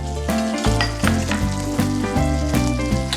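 Salted fish frying in hot oil until golden and crisp, giving a steady sizzling crackle throughout, with a stepping musical melody playing over it.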